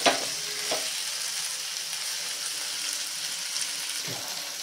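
Okra sabzi with spices sizzles in an open pan, stir-fried for a lunchbox recipe. A steady, soft frying hiss runs throughout, broken by a few dull knocks of the spatula against the pan.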